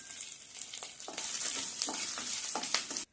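Green chillies and dried red chillies frying in a pan for groundnut chutney, a close, steady sizzle with repeated stirring scrapes, cut off abruptly at the end.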